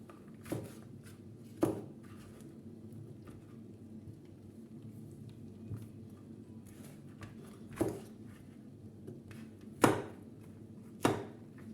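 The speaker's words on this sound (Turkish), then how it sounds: "dört tane tatlı biberimizi alıp doğrayacağız" Knife chopping sweet peppers on a cutting board: a handful of sharp, irregular strokes separated by long pauses, over a quiet steady background hum.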